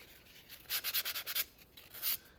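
Yellow foam is wet sanded in a quiet room, a short series of soft, rhythmic rubbing strokes, about seven quick passes followed by one longer stroke, close and faint.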